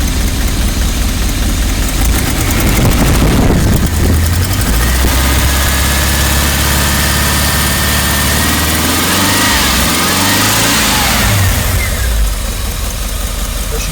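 Rolls-Royce Silver Spirit engine revving loudly up close, slightly misfiring. It rumbles with a rough, uneven note as the revs rise and fall.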